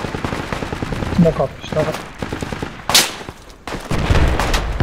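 Rapid machine-gun bursts and scattered rifle shots in the Project Reality video game, loud and close, with a sharp crack near the middle and renewed firing toward the end, while someone talks over the fighting.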